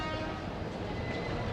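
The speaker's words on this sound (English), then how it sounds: "Japanese suburban trains are fast and frequent." A fast Japanese suburban train serving Expo 1971 in Osaka rumbles past close by, a dense, steady rolling roar filling the brief moment.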